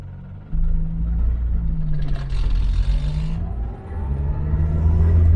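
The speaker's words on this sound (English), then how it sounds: "Let's see how it feels just pulling away from a complete stop." A Morris 1300 car with a newly fitted engine mount pulls away from a complete stop, its engine rising from idle into a steady, close rumble that swells as it accelerates, with no talking.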